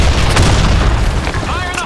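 A grenade explosion in a first-person shooter video game, a loud, full booming blast with dense rumbling noise that fills the short moment and then slowly thins out.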